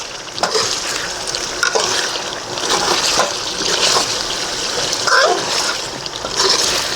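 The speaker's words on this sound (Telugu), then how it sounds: "ముందుగానే ఆయిల్లో మనం ఒక టూ మినిట్స్ దాకా మనం ఇట్నే పెట్టాలి దీంట్లో వాటర్ పోయకుండా" Chicken curry masala fries in oil in a pan, a steady close sizzle with intermittent stirring and spattering.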